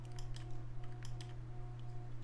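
Computer keystrokes during 3D modeling UV unwrapping, a few light, quick clicks scattered over a steady low electrical hum, close and fairly faint.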